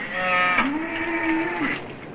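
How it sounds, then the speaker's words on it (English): One long, low moo from a cow, fairly close and loud, heard over a steady background hum. "The cattle are getting restless."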